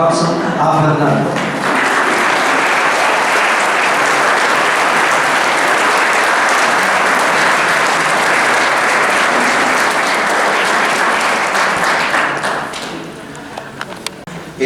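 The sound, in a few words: applause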